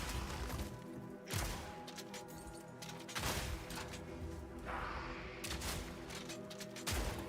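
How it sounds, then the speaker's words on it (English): Grenades in Path of Exile 2 detonate after a delay, giving loud repeated blasts and crashes about every one to two seconds over continuous heavy combat noise. "It's all delayed, the explosion, isn't it? From the nades."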